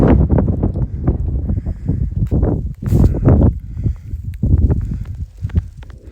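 Loud, gusty wind buffeting the microphone high on Mt. Adams near Crescent Glacier, rough low rumbling bursts that swell and drop in uneven surges with brief lulls between.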